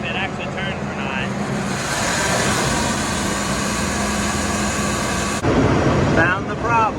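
A worn combine harvester's separator runs with a steady mechanical drone and whine, loud and constant, changing abruptly near the end as voices talk over it.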